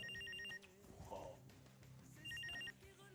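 Telephone ringing in a Pakistani comedy drama scene, a repeated electronic ring in two bursts near the start and end, heard over a background music bed.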